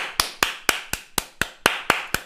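Hands clap in applause, nine crisp, evenly spaced claps at a brisk steady rhythm, close and isolated with nothing else heard.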